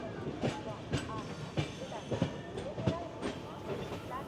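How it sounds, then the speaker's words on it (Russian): A train in India rolls slowly along with rhythmic clickety-clack beats from the wheels on the rails, steady and moderate, with a background murmur. "В принципе, поезд двигается не быстро."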